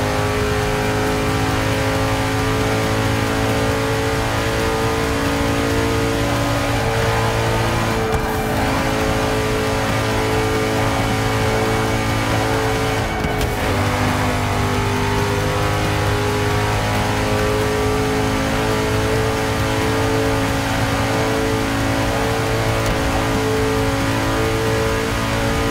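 Race car engines in the Forza 6 racing game drone loudly and continuously, with brief dips during two quick gear shifts before the revving climbs again.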